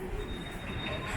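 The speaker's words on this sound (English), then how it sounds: "Now it looks like we've just had a train come in from Jinshan." A train arriving on Shanghai's Jinshan Railway at the station, with a steady rumbling roll and a thin high wheel squeal running across it, fairly close and continuous.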